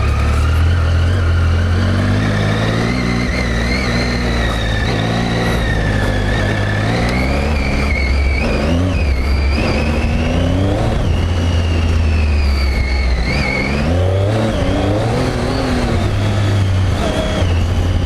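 A Triumph Tiger motorcycle ridden off-road in off-road mode with traction control engaged, its engine droning loud and steady throughout with rising and falling revs as the tire slips, no talk over it.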